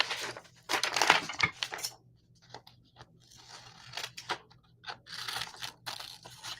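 Scissors snip and rustle through paper pieces for a sunflower mixed-media collage, a run of close, crisp cutting and crinkling sounds at a moderate, uneven pace.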